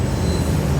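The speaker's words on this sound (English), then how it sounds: "Not another train coming as soon as the other train left." A Chicago CTA train rolls past on the rails, a loud, close, continuous rumble with a thin high wheel squeal on top.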